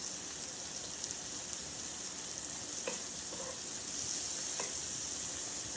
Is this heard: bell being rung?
no